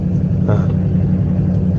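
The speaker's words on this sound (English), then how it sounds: "Oh, is that the car?" A car rumbles by outside a home near Hendersonville, a steady low engine-and-road drone that holds at an even level for the whole short stretch, with no voices.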